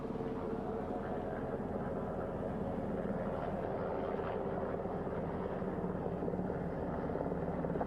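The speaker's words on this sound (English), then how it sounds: "The first helicopter coming in." A helicopter approaches a ship's flight deck to land near the bow, its steady thudding rotor and engine roar loud and continuous throughout, with a faint water or wind wash underneath.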